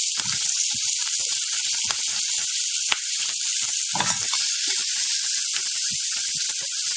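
Onion and green chillies frying in hot oil with asafoetida for a capsicum chutney, a steady loud sizzle with occasional crackles and stirring scrapes, no talking.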